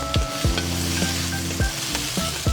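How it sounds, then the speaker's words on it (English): A spoon scrapes and stirs spices into sizzling vegetables in a pan for South Indian sambar, with repeated close knocks and scrapes against the pan over a steady frying hiss. "Mix this all in nicely so that the spices, spread out evenly."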